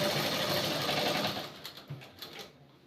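Sewing machine stitching a lined top, running steadily and loud at first, then slowing into short separate bursts of stitching as it winds down.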